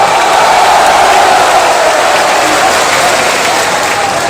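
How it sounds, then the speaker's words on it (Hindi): Dense, steady applause from a large crowd at an outdoor political rally for candidate Suvendu Adhikari, a loud sustained wash of clapping and crowd noise that holds evenly throughout. "हमारे युवा उम्मीदवार शुभेंदु अधिकारी जी के लिए जोर से ताली बजाओ जरा"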